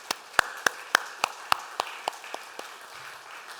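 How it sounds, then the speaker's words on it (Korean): A dozen or so sharp, evenly spaced handclaps ring out during a church worship service, close and distinct, gradually softening and thinning out before stopping. "우리 하나님께 영광의 박수 한번 올려드리겠습니다"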